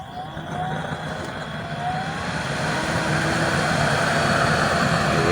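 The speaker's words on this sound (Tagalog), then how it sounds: "Let's open the blower." A blower pushes air into a waste motor oil burner with a 3-inch chamber and a 20-hole nozzle, making a loud, steady roaring rush that swells slightly and holds without pause.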